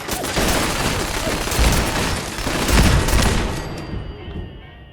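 Gunfire in the Fallout 4 video game, a dense burst of rapid shots and booms that stays loud and close before fading out at the end.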